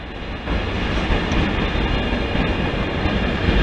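A slow-moving train rolls along a freight line on the East Coast Main Line, a loud continuous rumble of wheels and carriages heard from on board, steady throughout with no talking.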